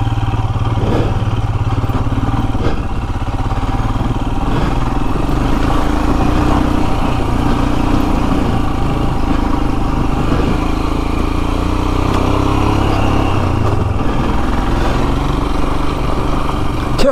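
Royal Enfield Himalayan motorcycle ridden off-road along rutted Cornish trails, its single-cylinder engine droning steadily and close throughout, with clatter and rumble from the rough ground and no talking.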